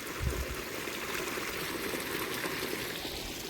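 Water pours steadily from a farm borewell into a tank, a continuous broadband rush and splash that stays even and fairly close throughout, with no talk.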